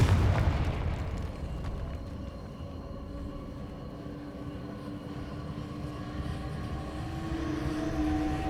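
A Confringo fire spell explodes in Hogwarts Legacy, a broad, rumbling blast that swells at the start and then settles into a sustained low roar with crackling debris running through the clip.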